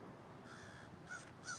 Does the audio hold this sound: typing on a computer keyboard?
no